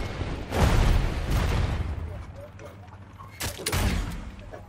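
Bursts of gunfire in Realm Royale crackle in quick clusters, loud and sharp, with a pause between volleys and faint voices underneath.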